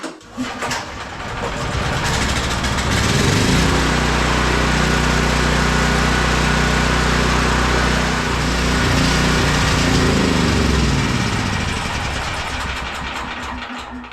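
A Champion 5500 watt generator's engine runs steadily after starting, a loud, continuous throbbing hum with a fixed low drone that holds level for the whole stretch, with no talking.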